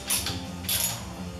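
A socket-set ratchet tightens a bolt on a Kubota snow blower during a drive chain and gear box repair, giving two quick bursts of close metallic clicking over a low background hum.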